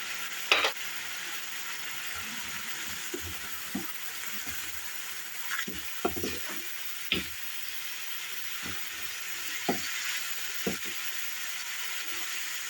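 Chopped onions sizzle steadily and loudly in oil, with a constant frying hiss and occasional sharp clicks and scrapes of stirring.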